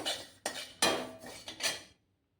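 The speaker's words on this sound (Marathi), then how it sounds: "हे 50 ग्रॅम जिरा आहे ते भाजून घेऊया आपण. ते पण व्यवस्थित असं परतून घेऊया." Cumin seeds being stirred as they roast in a pan for traditional goda masala, a handful of quick scraping, clinking strokes of a spoon against the metal, close and fairly quiet, ending abruptly.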